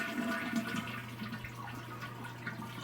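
A toilet flushes after its water supply has been shut off, a close rush and gurgle of draining water with a low steady hum beneath and no speech.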